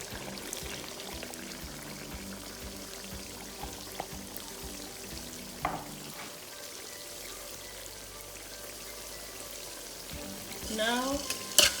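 Five eggs frying in a pot with a faint, steady sizzle, a brief sharp crackle as they go in, and louder spattering toward the end.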